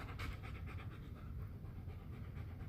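A dog pants rapidly and steadily close by, a rhythmic breathy huffing that carries on through the whole stretch at a low, even level, with no talk over it.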